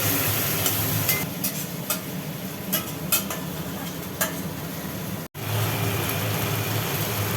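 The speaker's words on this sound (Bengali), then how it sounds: "এটাকে ভালো করে কষতে হবে এই মশলাটাকে ভালো করে কষতে হবে" Spice paste frying and being stirred in a pan for an aloo potol dalna, a steady sizzle with scraping strokes of a spoon throughout, briefly cut by a sharp dropout near the end.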